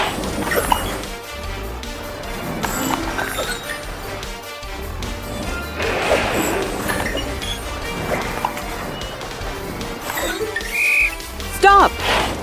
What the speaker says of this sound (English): When Torch blows his whistle